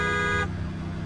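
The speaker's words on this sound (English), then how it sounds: "Don't you honk at me." Car horn in a video game blares a steady, loud tone for about half a second and then cuts off, leaving rumbling engine and road noise beneath.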